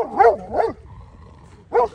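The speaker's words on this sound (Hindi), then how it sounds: "परली तरफ जाके भौंक रहा।" A dog barks from across the way: two quick close barks, a short pause with a faint whine, then one more bark, loud and sharp with no talk over them.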